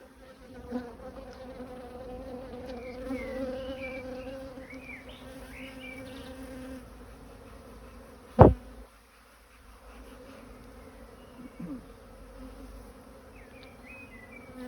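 Honey bees buzz steadily at close range during a spring hive inspection near a frame of drones, a continuous insect drone with one sharp knock midway and no talking.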